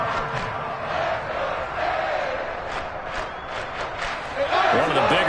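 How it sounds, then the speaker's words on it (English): Football stadium crowd roaring and cheering ahead of a big third down at a Ravens game, a broad continuous swell of many voices with a few sharp rising shouts, and a commentator talking over it. "The crowd getting into it as we come up on a big third down."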